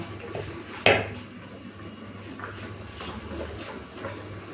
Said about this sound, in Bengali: তারপরে মাছের ঝোলটা বাটিতে ঢেলে নেব